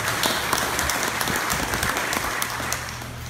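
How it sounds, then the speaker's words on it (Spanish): Crowd applause at a political assembly in Pinotepa Nacional, Oaxaca, greeting a political commissioner: dense, steady clapping from a large audience that holds at an even level for the whole stretch. "Fuertes los aplausos para nuestro comisionado político"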